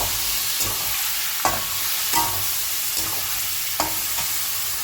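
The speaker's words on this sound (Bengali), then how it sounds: "এদিকে পেঁপে আলুটা কষানো হচ্ছে" Papaya and potato sautéed with onion, tomato, garlic and chilli paste sizzle steadily in a pan, with several sharp scrapes of a stirring spoon at intervals; no talking.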